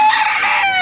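A rooster crows loudly and close by at a busy poultry market in Baliwag, one sustained call lasting under a second.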